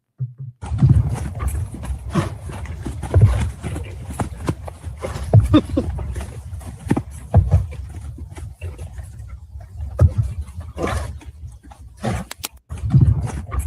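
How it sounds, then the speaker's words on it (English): Horses run and play around, their hooves clip-clopping in uneven bursts of thuds against steady, rumbling motion, moderately loud and close throughout. "Horses horsing around, having a ball, if you will."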